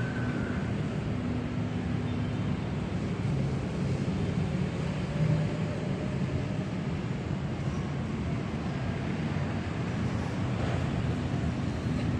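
Steady wind roars and rushes without a break near Manila Bay, a broad continuous noise with faint engine or water rumble beneath it.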